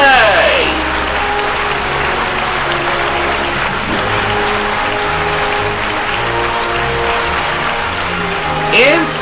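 At a 2019 racing tournament of champions, the crowd applauds a third-place finisher from the USA. Steady clapping and crowd noise run throughout over a low engine-like hum and background music.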